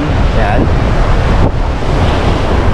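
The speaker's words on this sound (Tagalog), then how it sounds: "yung dagat, medyo malakas yung alon" Strong sea waves surge and wash continuously onto a beach at Dampalitan Island in Padre Burgos, Quezon, loud and close with heavy wind buffeting the microphone and a brief word spoken over the roar.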